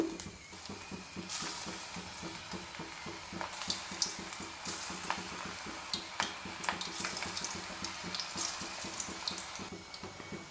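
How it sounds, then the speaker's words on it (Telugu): Moringa leaf pakodis frying in hot oil, a steady close crackling sizzle with dense small pops throughout and no talking over it. "ఆయిల్ అయితే హీట్ అయిపోయిందండి ఇప్పుడు దీనిలోకి పకోడీలు వేసుకుందాం"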